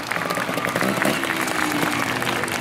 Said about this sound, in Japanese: 拍手をどうぞ。